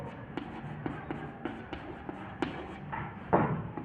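Chalk or marker writing on a board during a maths lesson, a run of short tapping strokes at an uneven rhythm followed by a longer scratchy scrawl, close and moderately loud, with no talking.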